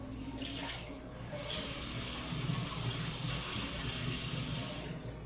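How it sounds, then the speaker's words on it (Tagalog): Tap water discolored yellowish from a municipal supply runs steadily from a household faucet, a continuous close splashing hiss that holds for several seconds with no talking. "Marami na naman po yung lumalabas sa ano, sa gripo natin."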